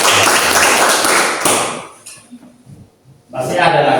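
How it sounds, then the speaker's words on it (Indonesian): A classroom of students clapping hands, a loud burst of applause that fades into quiet with some thumps and shuffling, then resumes strongly near the end. "Ya, tepuk tangan."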